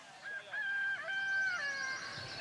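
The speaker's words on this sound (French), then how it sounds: "Oh les bruits de coq rajoutés au montage" Rooster crowing sound effect added in editing to a French boarding-school show: one long, drawn-out, wavering crow lasting under two seconds, clear and fairly loud against a quiet background.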